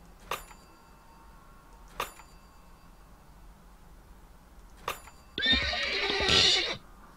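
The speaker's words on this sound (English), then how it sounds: "Lovely little horse farting noise there" Horse noise from The Tesla Effect video game: a sputtering, snorting whinny bursts out loudly near the end, preceded by three short sharp clicks in an otherwise quiet scene.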